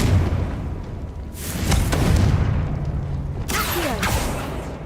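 A Confringo blasting spell from a Harry Potter–style video game goes off as a deep booming explosion, followed by a second burst with crackling debris, loud and close.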